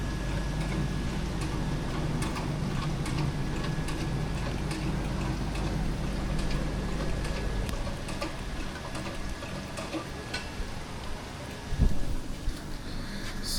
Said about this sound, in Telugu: కానీ మామూలు కొట్టట్లే వర్షం.